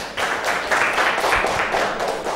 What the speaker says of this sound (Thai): อ้าวปรบมือกันให้เพื่อนค่ะ